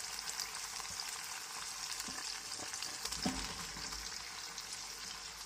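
Eggplant frying in oil with cooked tomatoes for an eggplant curry, a soft steady sizzle with a few light stirring knocks, one slightly louder near the middle.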